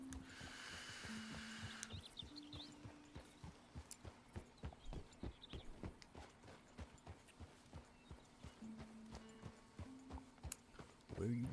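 Rhythmic clip-clop of horse hooves at a steady walking pace, fairly quiet, with a low background hum.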